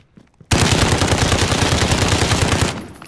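A loud, close burst of rapid automatic gunfire from a first-person shooter video game rattles on continuously for about two seconds, then cuts off sharply.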